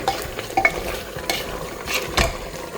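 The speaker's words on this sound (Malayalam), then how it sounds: "ഈ സമയം അത് ഒന്നുകൂടെ ഒന്ന് ഇളക്കിയിട്ട്" Beef boiling in a pot for kappa biryani is stirred with a spoon, giving close scraping and sloshing strokes over a steady bubbling sizzle, with no voices.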